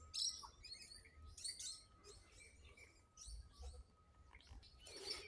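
Small yellow bird chirping in a garden, a string of quick bright tweets and short trills repeating through the clip over a low outdoor rumble, fairly close and clear.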